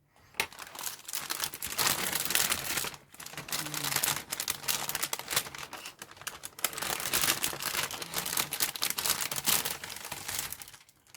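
Thin plastic bags holding parts of a Zvezda 1/48 Mil Mi-24 helicopter model kit are handled up close, with continuous crinkling and rustling and two short pauses.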